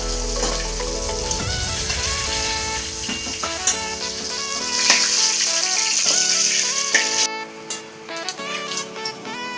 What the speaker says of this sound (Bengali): মাছগুলো ভাজা হয়ে গেছে এবার আমি সব মাছ তুলে নেব